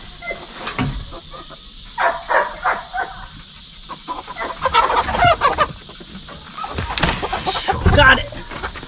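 Poultry fowl cluck in short, irregular bursts close by, mixed with people talking between and over the calls.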